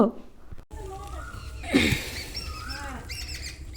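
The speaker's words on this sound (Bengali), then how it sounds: "কোকিল ডাকছে শুনছো" An Asian koel calls in spring, giving a few rising, whistled notes at a moderate distance. A brief scuffing noise and some background household sounds surround the calls.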